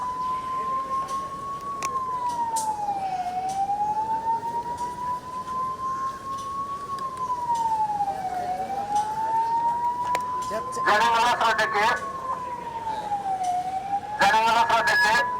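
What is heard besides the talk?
siren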